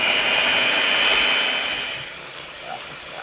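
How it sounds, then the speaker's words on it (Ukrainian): An electric mixer whips cold heavy cream with condensed milk for homemade ice cream, a steady whirring drone up close that gradually softens and drops in level over a few seconds. "Збиваємо вершки. Додаємо згущенку."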